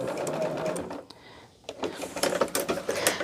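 A sewing machine runs a back stitch in quick rhythmic bursts close up, briefly pausing before starting again with rapid mechanical clatter.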